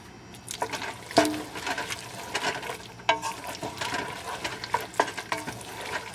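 Butter being stirred as it melts in a pan for pepper mac and cheese, with irregular spoon scrapes and clunks over a soft wet sizzle, close and moderately quiet, no talking.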